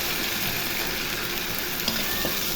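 Ginger-garlic paste sizzles steadily as it fries in hot oil with browned onions in a pan, with a constant close-up hiss and faint stirring scrapes throughout.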